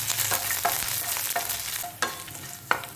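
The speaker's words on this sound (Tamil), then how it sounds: "கொஞ்சம் கருவேப்பிலை நல்லா வதக்கிக்கோங்க" Curry leaves with dried red chillies sautéing in a pan, a continuous soft crackling fry broken by several sharp scrapes and taps of a stirring spoon, close and without talk.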